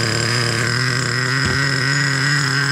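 A Traxxas Revo 3.3 nitro RC car engine runs at a steady high-pitched idle, a continuous buzzing drone with a brief blip partway through, close and loud throughout.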